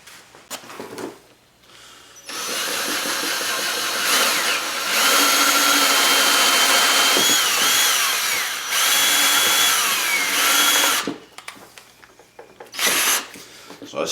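A power drill boring a 7/8-inch hole in an RZR 800 clutch cover, several loud, close whining bursts of several seconds each, separated by brief pauses with handling clatter.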